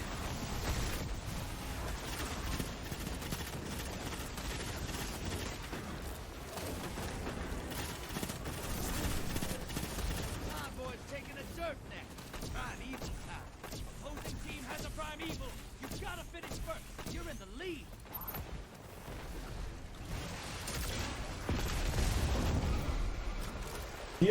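Destiny 2 Gambit match with a Warlock build: a grenade, gunfire and explosions crackle and boom in dense, overlapping bursts, with a heavier rumble near the end.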